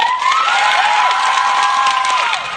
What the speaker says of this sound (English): And she got applause